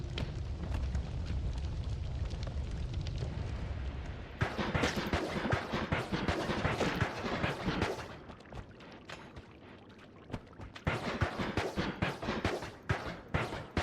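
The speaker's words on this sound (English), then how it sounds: "I think somebody must have caused an explosion down there" Chain-reaction explosions ripple through the video game Noita, a rumbling blast giving way to a rapid crackling barrage of bursts that fades briefly and then flares up again, loud and continuous with no voices.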